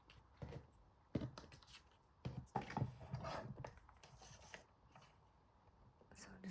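Scissors cutting paper strips for framed embellishments, a few quiet separate snips and rustles spaced irregularly, close but faint, with no talk.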